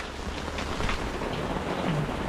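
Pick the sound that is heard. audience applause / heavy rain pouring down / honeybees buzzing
heavy rain pouring down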